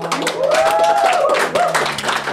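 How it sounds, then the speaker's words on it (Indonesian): Clapping on an Indonesian talk show, a short burst of hands clapping together with a whistle-like tone and a low hum beneath it. "Tepuk tangan dulu."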